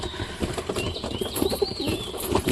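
Pigeons, including satin pigeons, coo softly amid a busy rustle of wings and pecking as they feed, with faint high chirps from other birds in the background.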